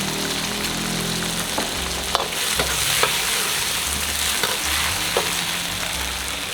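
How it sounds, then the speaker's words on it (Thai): Sauce sizzles and crackles steadily in a hot wok while making chicken with cashew nuts, with occasional scraping clicks of a utensil stirring, close and continuous. "ใส่น้ำซอสลงไปนะคะ ทุกคน น้ำซอสที่เราปรุงไว้นะคะ"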